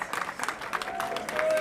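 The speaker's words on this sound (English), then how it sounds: "a big applause for all the competitors today out on the Rotsee" Crowd applause for medal-winning crews at a rowing regatta on the Rotsee, a broad wash of steady clapping that holds at an even level throughout, with faint voices mixed in.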